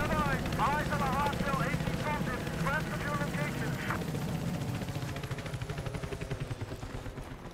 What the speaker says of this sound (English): Their chopper on the roof?